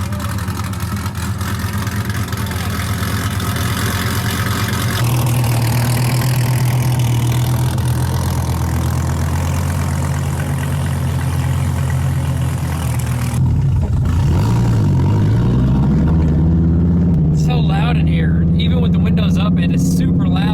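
A Dodge Viper V10 race car engine idles with a deep, loud, steady rumble, steps up in pitch, then blips and revs near the end, close by with someone talking over it.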